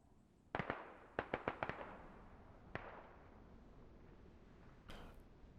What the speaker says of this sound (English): now once you fire US and INS firing mortars at the same time now